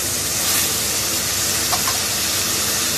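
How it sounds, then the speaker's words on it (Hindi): Yogurt goes into a pan of fried mutton and onions for garlic meat, producing a loud, dense, continuous sizzle and steamy hiss close up, with no voices. "अब हम इसमें डालेंगे दही।"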